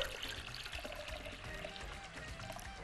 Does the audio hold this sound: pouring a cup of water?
yes